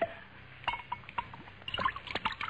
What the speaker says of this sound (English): you can pour me a glass of sherry